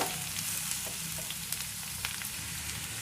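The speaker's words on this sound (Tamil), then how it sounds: "இப்போ இது நல்லா கிளறி விட்டுடுங்க." Snake gourd frying in a pan gives a steady, even sizzle throughout while it is stirred, with faint scraping under the hiss and no talking.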